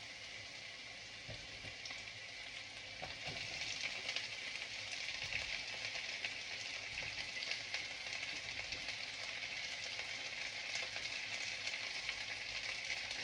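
Bitter gourd (ampalaya) frying in hot oil gives a steady, dense sizzle that swells slightly after a few seconds and holds at an even level, with faint stirring clatter and no voices.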